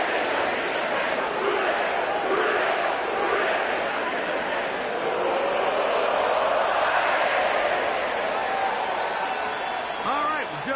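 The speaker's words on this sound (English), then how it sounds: "The crowd is definitely ready." A stadium crowd in an EA Sports NFL football game at Paycor Stadium in Cincinnati, Ohio, fills the clip with a continuous dense roar of cheering and babble, steady and loud throughout.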